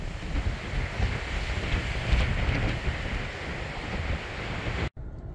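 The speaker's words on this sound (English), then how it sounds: "It is really windy." Strong wind from Hurricane Ian on Cape Cod roars and buffets the microphone in a steady, heavy rumble, cutting out briefly near the end before gusting on again.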